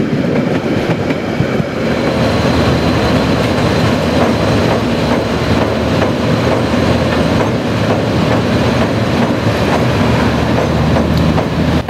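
Diesel-hauled train led by DI1102 and DJ1209, coasting down the grade from Cliffs Tunnel near Dunedin: a steady, close rumble with rhythmic wheel clickety-clack over rail joints and faint squeal, continuous and without voices.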